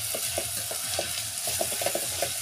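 Masala and onion frying in oil for a Marathi patavadi rassa dish, a steady close sizzle with soft scraping stirs throughout, no voices.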